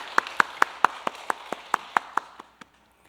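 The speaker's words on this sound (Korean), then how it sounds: "하나님께 감사의 박수 드리겠습니다." A few people in a church congregation clap in slow, separate, sharp claps, about a dozen spaced hits that thin out and stop, fairly faint in a quiet room.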